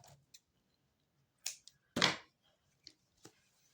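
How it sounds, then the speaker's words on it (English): Scissors snipping through crochet yarn after finishing a granny square, a few crisp close clicks with one louder cut in quiet surroundings. "cut off your yarn"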